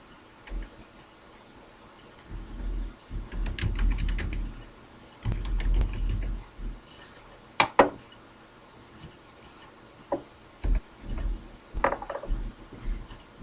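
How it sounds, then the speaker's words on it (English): Computer keyboard typing while entering text into a form, with irregular bursts of clicking keystrokes, some clusters dense and others sparse, close and fairly quiet with no talking. "as I begin typing"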